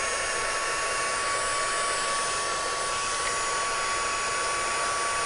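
A heat tool blows hot air steadily onto plastic for crafting Christmas birds, a continuous loud broadband whoosh with a thin steady whine, running alone without any talk.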